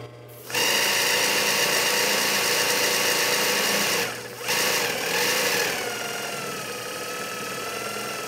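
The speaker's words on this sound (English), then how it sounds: "we are just doing this to see how well we can maintain our speed using the foot pedal and the clutch motor" Industrial sewing machine on a clutch motor runs without thread, a loud steady mechanical whir and rattle that starts abruptly, dips briefly midway, then settles into a slightly quieter continuous hum.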